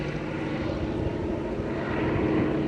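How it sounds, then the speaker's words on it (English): A propeller airplane passes over Alaskan wilderness as a steady, broad engine drone that holds fairly loud and even throughout, with no voices. "We think that's our plane."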